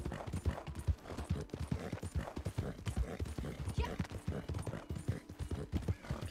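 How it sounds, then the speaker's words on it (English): Horse hooves clip-clopping at a steady, brisk rhythm in the video game Red Dead Online, loud and close, continuing throughout with a faint background bed and no voices. "The horses in this game are amazing."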